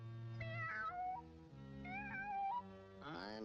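A cartoon cat in a 1941 Woody Woodpecker cartoon meows in a series of drawn-out, wavering cries, three distinct calls rising and falling over a musical backing.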